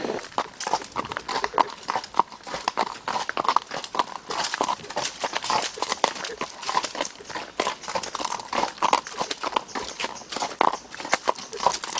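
A horse's hooves clip-clop in a steady, close rhythm during a ride, with crunching ground underfoot and continuous movement throughout.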